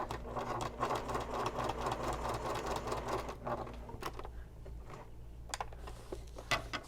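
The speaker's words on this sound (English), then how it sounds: "I always go back along my seam" Close up, a sewing machine stitches back along a thick, many-layered seam of a messenger bag in a steady run for about four seconds, then stops, leaving quiet handling noises.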